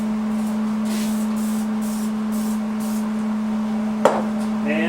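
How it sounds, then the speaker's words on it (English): Several short hissing bursts of anti-spatter spray in a steady rhythm over a constant low electrical hum in a welding setting, ending with one sharp metallic clack. "A little shot of spray for anti-splatter."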